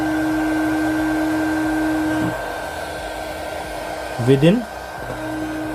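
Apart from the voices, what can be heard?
mini 300W hot air gun blowing, shrinking heat shrink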